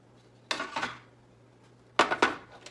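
Flour, baking powder and salt stirred in a bowl, giving two short bursts of utensil scraping and clinking against the bowl, close and fairly loud with quiet gaps between.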